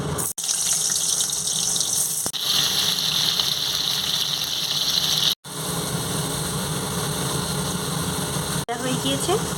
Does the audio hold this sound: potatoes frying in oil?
yes